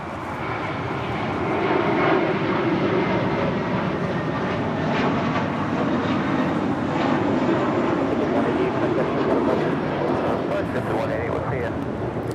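A seven-year-old Airbus A321 jet on flight 188 departs Los Angeles International for Boston, making a steady, loud roar of engine thrust that holds for the whole stretch, with a voice talking over it.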